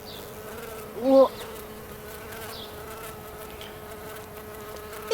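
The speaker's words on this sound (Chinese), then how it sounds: "哎，有有蜜蜂！" A bee buzzes close by in short intermittent passes, a thin droning hum that rises and fades, with a brief spoken word cutting in once.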